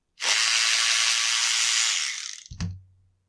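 A power tool whirs steadily and close for about two seconds while backing a bolt out of the fuel tank of an Echo CS500P chainsaw, then winds down and ends with a single sharp clack.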